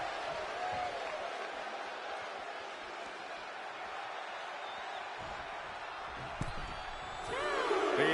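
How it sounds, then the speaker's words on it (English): Wrestling arena crowd in the WWE 2K24 game, a constant roar of massed voices with a slam thud and swelling cheers near the end, while a commentator talks over it. "The sound of this crowd is deafening"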